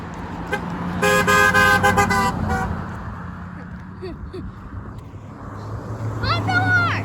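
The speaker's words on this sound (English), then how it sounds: "I think he did honk. Just a little tiny honk" Car horn honking on a road: a loud, steady blare lasting about a second and a half, then a shorter, fainter toot near the end, over traffic noise with people talking.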